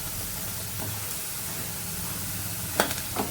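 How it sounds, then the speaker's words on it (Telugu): Food frying in a pan with occasional stirring until golden and crisp: a steady low sizzle throughout, broken near the end by a few brief scraping clinks of a utensil. "సో ఇప్పుడు మంచి కలర్ వచ్చేదాకా ఫ్రై చేసుకోవాలి."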